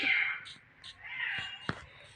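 A cat meows several times in a Minecraft game, short mid-pitched calls over a steady game background, with a player talking around them.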